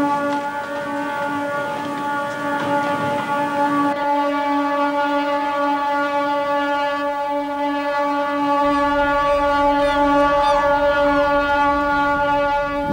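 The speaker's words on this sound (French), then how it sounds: "toutes les sirènes se mettent en route" Shipyard and ship sirens sounding together at a ship launch in a naval shipyard: sustained, overlapping horn tones blaring continuously at close range, loud and steady, with no talking.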